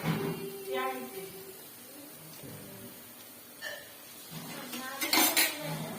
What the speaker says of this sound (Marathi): तर आपण हा हलवून घ्यायचंय लाल होईपर्यंत